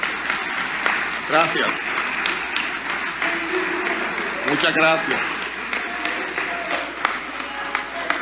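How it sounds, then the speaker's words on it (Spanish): Members applaud in a parliamentary interpellation session, a steady wash of clapping heard under a nearby voice giving thanks. "Pueden seguir aplaudiendo después de mis repreguntas."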